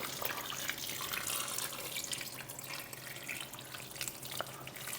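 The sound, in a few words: hot water poured over tolma in a pot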